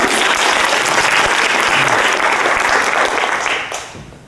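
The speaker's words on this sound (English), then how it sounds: "Let's give Larry a round of applause" Audience applause for Larry, a full, steady roar of many hands clapping that holds for several seconds before tapering off near the end.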